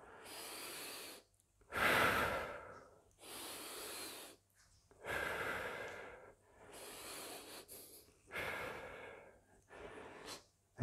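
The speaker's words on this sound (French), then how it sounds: "j'expire en tendant les bras." Repeated forceful exhales and breaths during a resistance-band arm workout, about six separate breathy bursts in a steady rhythm, close and fairly loud with no talking.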